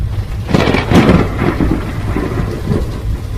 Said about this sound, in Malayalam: ആ, അവിടെ മഴ പെയ്യുന്നുണ്ടോ? ആ, പെയ്യുന്നുണ്ട്.